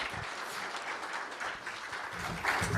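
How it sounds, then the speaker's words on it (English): A brief burst of audience clapping after a keynote presentation at an applied research forum, moderately loud with a slight swell near the end and no one speaking. "Please give Harry a round of applause"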